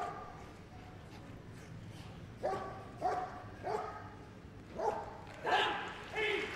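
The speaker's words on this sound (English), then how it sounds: "the dog should stand off and bark at him," A police dog barks repeatedly at a steady pace, roughly every half second to second, during a police dog display at a dog show, over a noisy outdoor background with faint voices.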